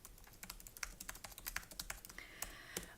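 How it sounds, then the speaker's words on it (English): Rapid typing on a computer keyboard, a steady run of light keystroke clicks with occasional heavier key presses, close and soft, no voices. "I'm just going to type that in"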